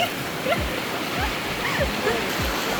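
Monsoon water rushing out of Robbers Cave near Dehradun, a continuous close stream roar with a few brief chirp-like sounds over it.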